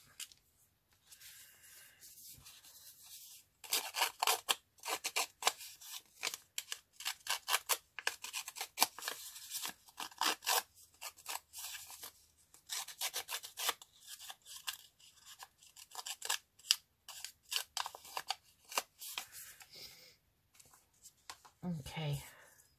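Dry scraping and rasping of a roughing-up tool along paper tag edges, in quick uneven bursts with short pauses, close and fairly loud, with no one talking.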